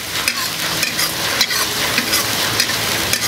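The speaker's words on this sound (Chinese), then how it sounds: "这样炒一下啊" Beef stir-frying in a wok, a loud close sizzle with rapid rhythmic stirring scrapes over a continuous hiss, no speech.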